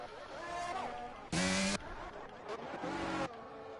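Racing cars in a sim racing league event at a Spanish circuit run close together. Engines whine and drone steadily, with a couple of brief louder bursts as cars pass nearby.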